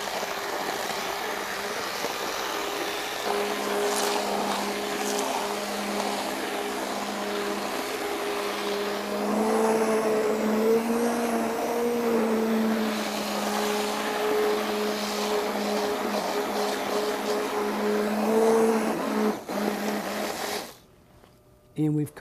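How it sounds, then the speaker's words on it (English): A blender on low speed purees tomato sauce in a steady, continuous motor whir with a faint tonal hum that holds for about twenty seconds before stopping abruptly. "we've completed the pureeing of the soup"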